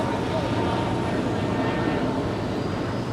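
Aeromexico Boeing 737-800 jet at Los Angeles International Airport, a steady low engine rumble with broadband roar holding level throughout, fairly distant and continuous, with no talking.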